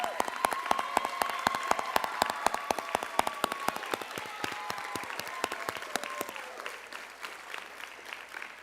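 Applause greets nursing honor society inductees at a pinning ceremony. Scattered, distinct claps come from a modest crowd, moderately loud at first and thinning out toward the end, with faint voices underneath.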